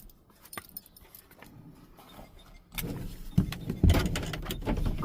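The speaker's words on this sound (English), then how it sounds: "Roll up my window." A car's electric power window rolls up after the engine is shut off, a motor whine rising under light clinks and handling noises inside the vehicle.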